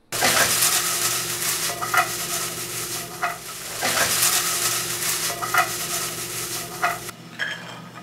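Sausage cooking with black beans and rice in a pan gives a loud, steady sizzle broken by repeated stirring scrapes, close up, before the frying abruptly drops away near the end.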